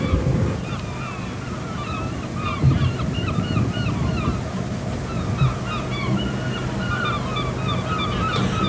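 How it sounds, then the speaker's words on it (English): Seagulls call repeatedly over Scarborough's fishing harbour as vessels come into port, their cries layered over a steady wash of sea and wind noise. "As each vessel comes into port, the seagulls wait patiently for their supper."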